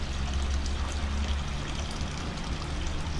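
Warm spring water pours steadily from a tap into jugs, a continuous close splashing stream with no voices.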